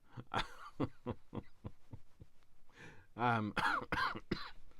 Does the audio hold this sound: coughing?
yes